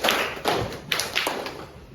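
A classroom of students claps together in unison, a few sharp group claps in a steady rhythm, fairly close and with no talking over them.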